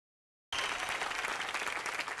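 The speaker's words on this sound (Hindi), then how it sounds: "तो जोरदार तालियों से स्वागत कीजिए" Studio audience applause on a Hindi entertainment show, a sudden burst of dense, loud clapping from many hands that starts abruptly and sustains evenly without talk.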